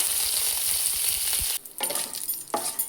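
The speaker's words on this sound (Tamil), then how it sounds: "கடுகு, உளுந்து, கடலைப்பருப்பு போட்டிருக்கேன். நல்லா பொரியட்டும்." Mustard seeds, urad dal and chana dal crackle in hot oil with a bright, steady sizzle. Partway through, the frying briefly quiets, then a couple of stirring scrapes follow.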